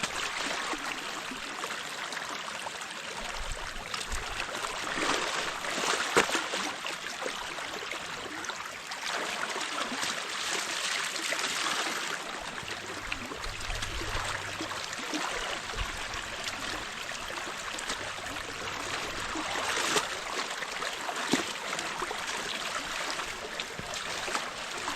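A stream flows in the countryside with a steady broadband wash of running water, loud and fairly close. Gentle surges come and go over the whole stretch, and no voices are heard.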